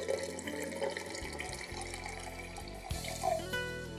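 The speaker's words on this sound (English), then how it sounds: "So I'm going to go ahead and add water to my seeds." Filtered water trickles and splashes into a mason jar of sprouting seeds in a quiet kitchen. The steady, faint pour continues for several seconds and brightens briefly near the end.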